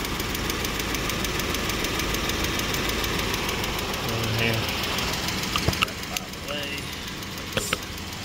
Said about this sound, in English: Careful with the vehicle running, because there is belt right there spinning